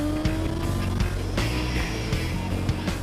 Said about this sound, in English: And out accelerating the car,